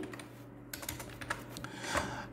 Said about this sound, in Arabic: الوغ انايا نكتب المود باس تاعي كيما راني حابو